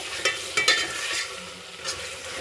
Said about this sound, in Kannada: ಶುಂಠಿ ಬೆಳ್ಳುಳ್ಳಿ ಪೇಸ್ಟ್ ಪುದೀನ ಹಾಗೆ ಟಮಟ ಹಾಕೊಂಬಿಡಿ ಇದು ಟಮಟ ಸ್ವಲ್ಪ ಫ್ರೈ ಆಗಲಿ